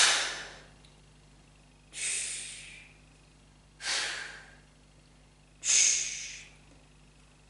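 Four slow, deep breaths repeat at even intervals, each a rushing airy inhale or exhale swelling and fading over about a second, close and clear against near-silence.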